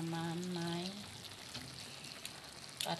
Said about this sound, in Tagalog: Lagyan po natin siya ng itlog.